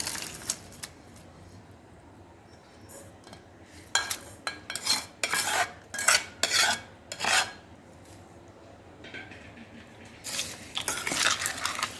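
Cooled tempering being added to a carrot pickle and mixed in a bowl: clusters of clinking, scraping spoon-on-dish strokes in irregular bursts, close and fairly loud, separated by quiet stretches.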